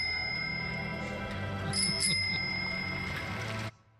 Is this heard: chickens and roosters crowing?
no